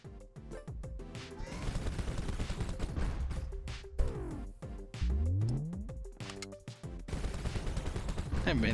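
Rapid video-game gunfire in a Nintendo Switch shooter, bursts of sharp synthetic shots mixed with game effects and music, fairly close and punchy with uneven rhythm.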